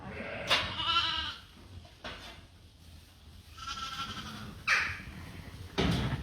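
Sheep bleating in a lambing pen on a family farm, several loud close bleats rising and falling in turn, with quieter rustling and shuffling between them.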